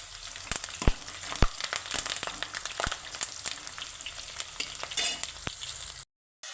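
Green chilies, onions and curry leaves fry in hot oil in a pan, a steady loud sizzle broken by sharp scraping clicks as a spoon stirs, no talking.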